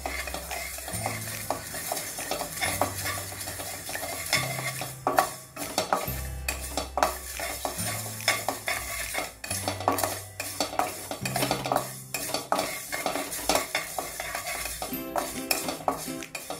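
Ingredients for a spicy lemon pickle lightly roasted in a hot kadhai, a utensil scraping and stirring in steady strokes with clinks against the metal, over steady background music.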